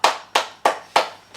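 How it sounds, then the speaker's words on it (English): Four sharp, evenly spaced claps ring out from a British wrestling crowd, each a crisp slap with a short decay. A fifth, softer clap trails at the end, and nobody speaks. "That was a delayed clap."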